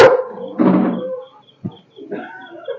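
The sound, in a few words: dog barking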